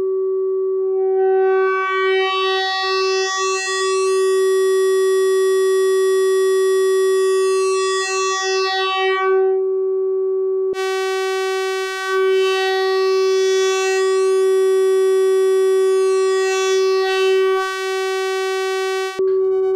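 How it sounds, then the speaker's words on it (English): An oscillator on a Buchla Music Easel synthesizer sounds a loud, sustained tone whose overtones swell and sweep, then cut off briefly and return, with no other sounds. "You start with a sine wave, which has no harmonic content beyond the fundamental frequency of the oscillator."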